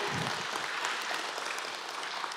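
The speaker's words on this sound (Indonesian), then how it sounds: "kita berikan tepuk tangan untuk beliau" Applause from attendees at a year-end transport ministry press conference, a steady spread of clapping heard at a distance and fairly faint.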